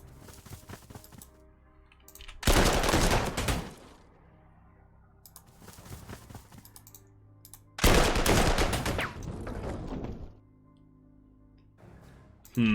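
Artillery fire in the strategy game Panzer Corps 2: two loud, sustained bursts of booming impacts a few seconds apart, each rumbling for over a second, with quieter battlefield noise between them.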